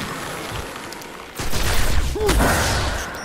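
Gunfire from a weapon in the Xbox 360 video game Destiny breaks out after a quieter stretch, a dense burst of shots lasting over a second, close and loud.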